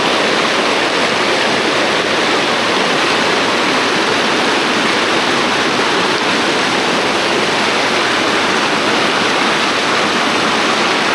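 Rushing water pours at the Debipur DVC dam, a loud, unbroken roar that fills the whole stretch with no voices.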